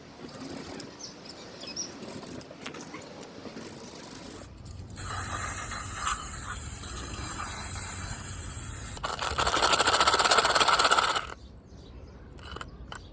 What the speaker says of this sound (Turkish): Somun ve vidalarımızla tel fırçayla temizleyelim.